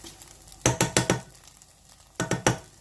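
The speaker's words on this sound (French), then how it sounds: "Et je touille à nouveau." A spoon scraping and stirring spiced béchamel sauce in a pan: two quick bursts of rhythmic strokes, four sharp scrapes then three more after a short pause, close and distinct.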